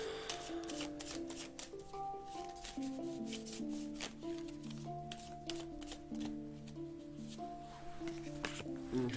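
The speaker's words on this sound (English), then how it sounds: "I'm going to pull Rebecca L a free card" Tarot cards shuffled over and over in a quick, irregular stream of papery riffles and flicks, close and fairly quiet, with faint music underneath.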